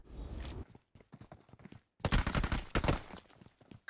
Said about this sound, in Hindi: अब यहाँ पर आकर मुझे फायर का साउंड आता है।